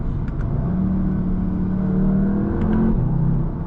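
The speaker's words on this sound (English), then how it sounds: "It sounds so good for a 4-cylinder." The four-cylinder engine of a 2020 Audi TTS revs on the road with a loud, steady drone that climbs slightly in pitch, heard from inside the cabin without talk.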